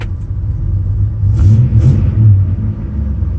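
A 1963 Ford Falcon engine with new lifters and pushrods runs close by, a loud low rumble with a couple of brief revs rising and settling.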